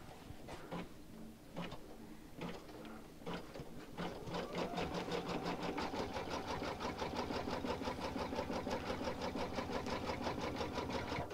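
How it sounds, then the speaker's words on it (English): A sewing machine stitches a placement line around a quilting piece, starting with a few short separate bursts and then settling into a steady, loud, fast run of needle strokes close by. "what it's done is it's stitched our placement line all the way around"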